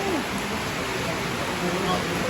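Heavy rain pours at a hillside shrine during a landslide, a dense, even hiss of falling water that holds steady throughout with no pauses, while a voice speaks faintly beneath it.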